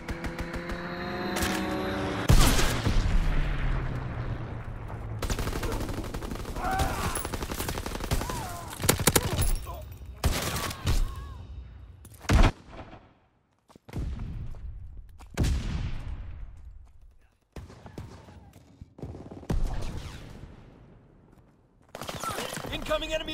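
Enemy artillery barrage in Call of Duty: WWII: repeated loud, sharp blasts and bursts of gunfire arriving at irregular intervals over continuous battle noise, with brief near-silent gaps between some impacts and a voice speaking in places.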